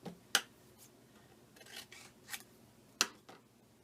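Paper being cut with scissors for a scrapbook journal page, a few short crisp snips spaced apart, with faint rustling between them, close and quiet.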